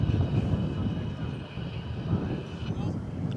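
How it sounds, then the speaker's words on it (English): A FedEx MD-11 comes in to land at DFW Airport on the far side, its engine noise a steady, distant roar under someone talking. "another MD-11. It's a FedEx MD-11 coming in on the other side"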